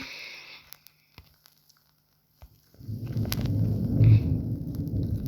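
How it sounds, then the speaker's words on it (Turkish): A lightning strike's thunder in a Skibidi Toilet tower defense game: quiet clicks first, then a sudden rolling rumble that builds and lingers loudly for the last few seconds. "Şimşek çarpıyor oğlum."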